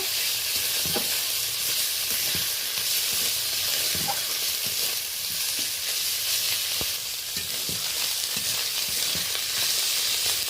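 Onion, tomato and ginger paste sizzle steadily in a pan for okra and prawn curry, a dense close hiss broken by repeated scraping knocks of a spatula stirring the mixture, with no voices.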